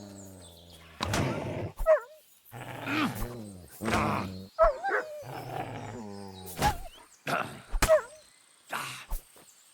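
Dog barks inside the video game Kingdom Come Deliverance 2, sharp repeated yelps and bow-wows spread across the span amid other game sounds and voices, fairly close and loud.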